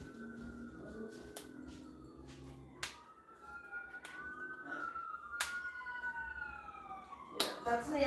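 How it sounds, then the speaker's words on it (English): An ambulance siren wails outside at a distance, its pitch sliding up and down over several seconds, with sharp clicks and light background noise up close. "Yeah, that's the ambulance"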